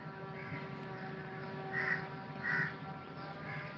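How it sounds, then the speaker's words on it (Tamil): Crows caw a few times at a distance, harsh calls spaced apart over a faint steady background hum. "அது ஃபுல்லா காக்கா இருக்கு அதெல்லாம் கத்திட்டே இருக்கு"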